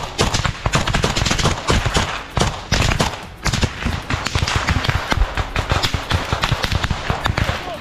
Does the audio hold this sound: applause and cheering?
no